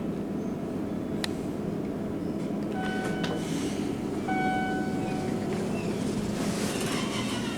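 A metro train rumbles through Arlington station in a steady, loud roll of wheels on rails, with several faint high squeals and clicks from the cars.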